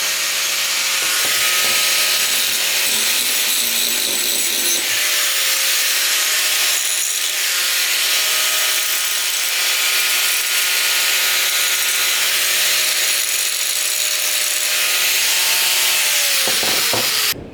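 An angle grinder grinds down a weld on a Mazdaspeed 6 dump tube, a loud, continuous abrasive screech with a steady high whine, held almost without break for the whole stretch.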